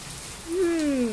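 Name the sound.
rain falling at night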